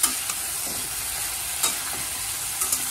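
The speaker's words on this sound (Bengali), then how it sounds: "একটু ভালো করে ভাজা হোক" Steady oil sizzle with occasional scraping clicks of a utensil, vegetables frying in a pan close by, no voices.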